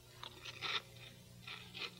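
Crispix cereal soaked in milk crunched between the teeth, a few crisp chewing bursts grouped in two clusters, close and fairly faint, with no talking.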